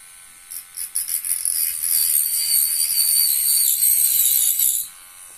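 A small AliExpress mini angle grinder/drill starts with a few short bursts, then runs in a steady high-pitched whine as it bites into a piece of wood, loud and close, then cuts off.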